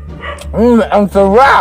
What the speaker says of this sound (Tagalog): Pasensya na, maingay yung mga aso, nanggigigil